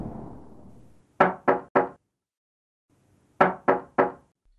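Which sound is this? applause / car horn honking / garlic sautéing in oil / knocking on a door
knocking on a door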